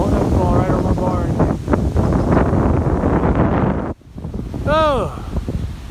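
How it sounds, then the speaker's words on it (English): Strong wind blows outdoors near a barn and trees, roaring and buffeting the microphone as loud, steady broadband rumble throughout, with a brief lull, and a voice speaking over it. "Whoa, windy."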